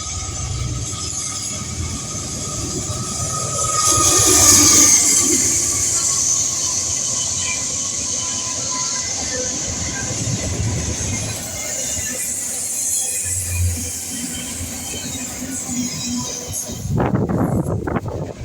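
A westbound freight train hauling junk rolls past steadily with a continuous rumble and wheel noise, with a louder burst near the end and no talk.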